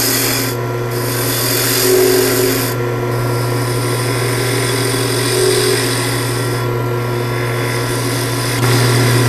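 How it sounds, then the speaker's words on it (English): A spindle roughing gouge shapes a spinning piece of wood on a lathe, making a steady, loud rasping scrape over a constant motor hum, with slight swells in intensity and no talking. "We're going to use our spindle roughing gouge again, and we're just simply going to shape it over just the same way we did the bottom."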